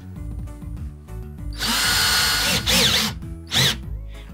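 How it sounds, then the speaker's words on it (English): A step drill bit bores holes in a MeanWell RT-65B power supply case being prepped for paint, a close, loud power drill whine rising from about 1.5 seconds with a few surging pulses of cutting and no talk. "to drill the holes, I'm gonna use this really nice stepper drill"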